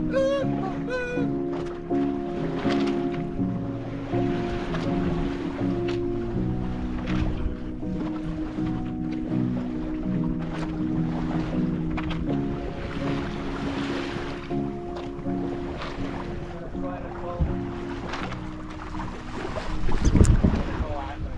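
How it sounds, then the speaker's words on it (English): A sailboat glides offshore in light wind, with a steady low rumble of water and wind noise and soft creaks, then a louder gust or splash near the end; a voice is faintly present. "Light wind sailing."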